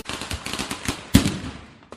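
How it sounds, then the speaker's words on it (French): A firecracker explosion gives a rapid crackling burst of sharp pops, with one loudest bang in the middle, close and harsh before fading out. "Le pétard est un dispositif explosif de faible puissance principalement utilisé pour la déflagration bruyante qu'il produit."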